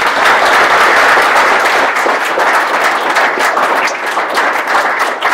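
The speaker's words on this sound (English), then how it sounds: "Round of applause for them." A loud, dense round of audience applause for the panelists at the close of a technology panel event fills the whole stretch evenly, a steady wash of many hands with no pauses.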